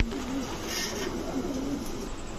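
Pigeons of highflyer, racer and Sirazi breeds, kept at a street seller's stall, give soft wavering coos under a steady wash of background noise.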